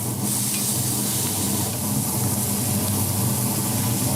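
Smash burger patties sizzle on a hot flat grill in a steady, loud, unbroken hiss and crackle, with no voices over it.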